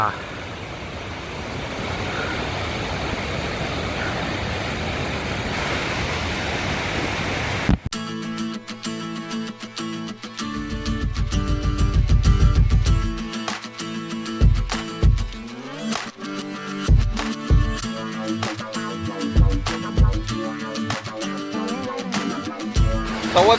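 Sawatsada waterfall in Chiplun pours with a steady, dense rush of falling water for the first several seconds before music with sharp beats takes over the rest.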